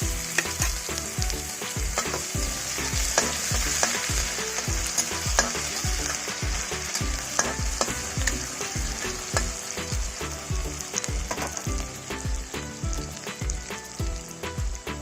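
Constant frying sizzle of ginger garlic paste in a hot pan, with rapid repeated clinks and scrapes of a spoon stirring, close up and steady throughout.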